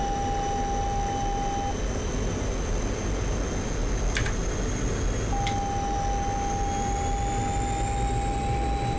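MiG-21bis jet engine at full throttle in the DCS World flight simulator, a steady wide roar with a high whine, broken by an intermittent electronic warning tone and a couple of brief clicks, with no speech.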